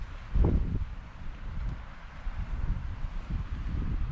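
Wind blowing across a Scottish island shore buffets the microphone in low, uneven gusts, with one stronger rush near the start and a steady rumble after.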